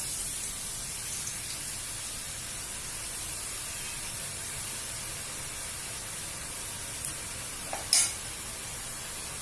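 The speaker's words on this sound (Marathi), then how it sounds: "चुरा छानपैकी ब्राऊन कलरचा होईपर्यंत आपण तळून घेऊ." Crumbs for vada pav chutney frying in oil, a steady soft sizzling hiss throughout, with a brief louder scrape near the end.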